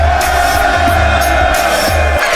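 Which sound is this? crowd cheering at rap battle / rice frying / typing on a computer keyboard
crowd cheering at rap battle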